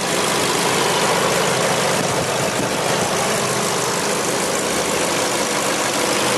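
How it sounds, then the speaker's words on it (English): A 2015 Volkswagen Jetta's 2.0-litre four-cylinder engine idles steadily nearby, a smooth continuous hum with no revving and no voices. "It does have Volkswagen's 2-liter four-cylinder, but everything under here is in great shape"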